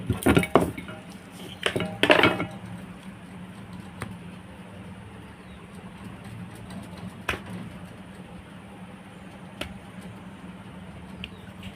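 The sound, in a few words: cutting rolled-out dough with a knife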